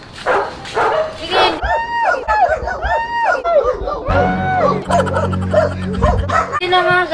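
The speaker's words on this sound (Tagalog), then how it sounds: "May aso." A dog yips and barks in a short irregular series, close and fairly loud, amid lively Filipino chatter from several people in a home setting.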